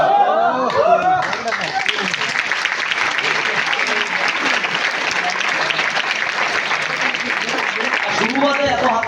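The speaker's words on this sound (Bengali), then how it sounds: "শুরুতে এত হাততালি হলে লাস্ট পর্যন্ত থাকবে তো?" A hall full of trainees applauds at the start of a session, dense sustained clapping of many hands lasting several seconds, with a voice speaking just before and as it tails off.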